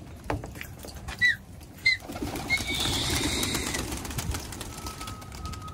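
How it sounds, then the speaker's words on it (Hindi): Pigeons released from a loft burst into flight, with a couple of sharp wing claps followed by a sustained rush of flapping wings, while faint bird calls sound in the background. "ये उड़ गया भाई कबूतर।"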